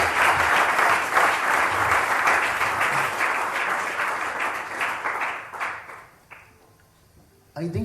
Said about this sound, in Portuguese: Aplaudan al Señor Jesús.